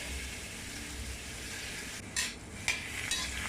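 Garlic fried in oil in a wok for a beef and giant scallion stir fry: a faint, steady sizzle runs throughout, broken by a few brief scraping stirs and clinks toward the end.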